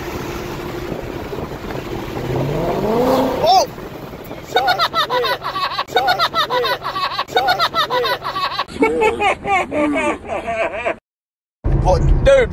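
A car engine revving in repeated bursts, rising and falling pitch swells followed by a string of choppy rev pulses, close and loud, with people talking over it.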